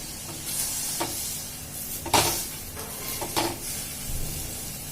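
Semolina sheera being stirred in a new kadhai, a spoon scraping the pan in a few distinct strokes over a steady soft sizzling hiss, close and moderately loud, with no talking.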